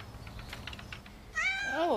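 A cat at a volunteer-run shelter for lost and abandoned cats in Bristol, England, gives a single rising-then-falling meow near the end, close and clear after a stretch of quiet room noise.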